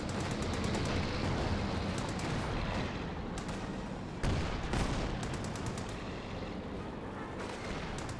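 Company of Heroes 2 battle din of artillery and gunfire, dense and continuous, with a Sherman tank throwing high explosive rounds among repeated distant blasts and crackling fire, a sharp loud burst near the middle.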